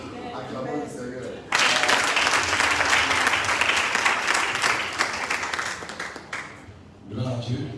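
A church congregation bursts into loud, sustained applause for several seconds, with a speaking voice before it and again as the clapping fades.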